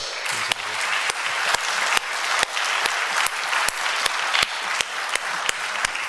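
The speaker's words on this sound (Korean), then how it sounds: "우리 진심으로 환영할 때 뜨거운 박수로 두 분을 영접하십시다" Warm applause from a church congregation welcoming two guests at a Sunday service, steady dense clapping filling the room throughout, with a few sharper accented claps standing out.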